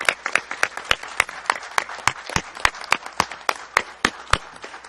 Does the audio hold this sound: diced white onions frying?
no